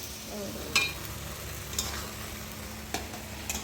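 Kuchia, a small eel-like fish, fries in a pan as it is stirred, giving a soft, steady sizzle with a few sharp scrapes and clicks of the spatula against the pan.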